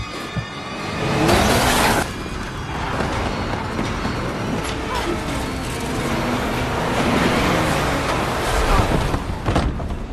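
A car speeding past and nearly hitting a man, a loud roaring engine rush with a sharp burst early on and a rumbling swell through the rest, mixed with background noise.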